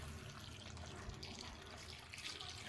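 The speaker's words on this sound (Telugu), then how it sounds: "కొంచెం వాటర్ వేసుకొని" A little water poured into a kadai of brinjal chutney mixture with salt, cumin and a spoon of oil, a faint, steady trickle that runs quietly throughout.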